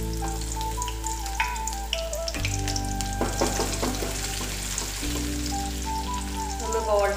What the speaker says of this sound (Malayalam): കടുക് ഒന്ന് പൊട്ടിക്കഴിയുമ്പോൾ നമുക്കൊരു മൂന്നാലഞ്ച് ചെറിയ ഉള്ളി കട്ട് ചെയ്ത് അതിലോട്ട് ഇട്ട് കൊടുക്കാം